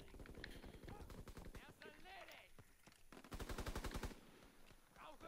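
Rapid video game gunfire crackles in quick bursts, including a dense automatic volley near the end, mixed with faint game sound effects and quiet background noise.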